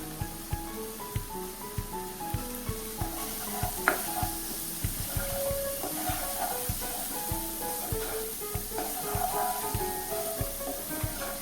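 Spices for methi dana sabji sizzling in a pan while being stirred, with repeated scraping and knocking of the spoon against the pan over a continuous frying hiss, no talk.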